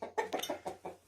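Brahma chickens cluck close by in a quick burst of four or five short, throaty notes, with no other sound around them.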